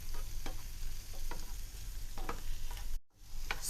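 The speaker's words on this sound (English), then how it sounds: "We're going to saute those." Tomatoes with turmeric and chili powder being sautéed for a cashew curry: a steady sizzle with intermittent stirring scrapes, loud and close, cut by a brief silent gap near the end before the frying resumes.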